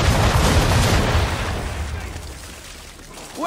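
Ship cannons fire round shot in an Assassin's Creed 3 naval battle. One heavy, rumbling boom opens, then a long decaying roar slowly fades, and another blast begins right at the end.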